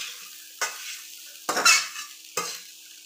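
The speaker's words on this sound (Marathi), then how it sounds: "हलवून घ्यायचे" Egg rice being stirred in a pan, three distinct scraping stirs of a spatula about a second apart, each a short rustling burst over a quiet background with a faint sizzle.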